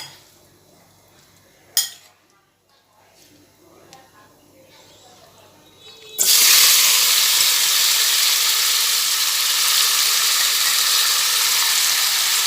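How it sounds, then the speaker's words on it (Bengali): Marinated lota fish is poured into hot white oil in a kadai. After a quiet stretch with one sharp clink, a loud, dense sizzle bursts out and holds steady to the end. "মাছটা কড়াইয়ের মধ্যে ঢেলে দিলাম"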